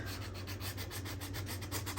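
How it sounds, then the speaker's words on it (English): Steady, continuous rasping of abrasive paper rubbed back and forth with a sanding block to distress printed paper, close up, with even strokes and no talking. "I also want to grab a sanding block and kind of"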